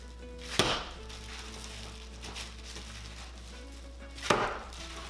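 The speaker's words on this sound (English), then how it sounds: "You could also throw the filling just like this to make the texture more bouncy" Siu mai meat filling is slapped hard against a bowl twice, each throw a sharp, close thud standing alone over quiet kitchen background.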